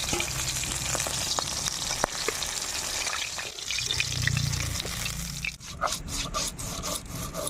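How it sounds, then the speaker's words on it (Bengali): Rohu fish pieces frying lightly in hot oil, a continuous moderate sizzle with occasional soft clicks and scraping, ending in a series of brief taps. "হালকা ভেজে আমি নামিয়ে নিচ্ছি"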